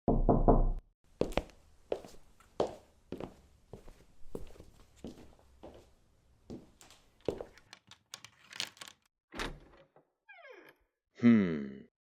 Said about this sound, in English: quickly followed by 3 hard knocks on his door